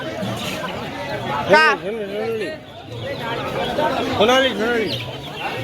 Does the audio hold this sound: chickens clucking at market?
yes